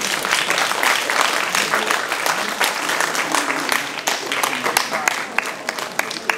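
Sustained applause from an audience in a hall at a 40th anniversary celebration, dense steady clapping filling the room for several seconds, with some crowd murmur beneath.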